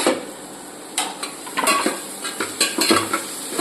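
A spoon scrapes and clatters against a pan in a quick series of stirring strokes through carrots and capsicum over a soft sizzle, close by.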